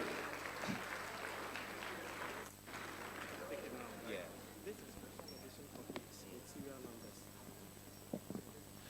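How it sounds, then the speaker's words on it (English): Audience applause at a ceremony honoring a footballer, a faint wash of clapping mixed with crowd noise and a voice speaking over it. "Well, let the applause match it."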